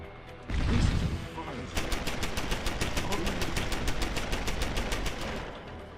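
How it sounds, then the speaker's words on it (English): An automated turret in the game Deus Ex: Human Revolution fires a long, rapid, evenly spaced burst of shots after a brief rumble, steady and fairly loud throughout. "the turret is shooting the wrong place."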